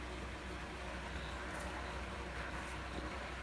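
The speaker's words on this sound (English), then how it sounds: "What you're hearing now is the water going into the tank that goes for the washing up and the toilet" Water runs steadily into the washing-up and toilet supply tank of an off-grid house in central Portugal, giving a faint continuous rushing hiss with no clear breaks.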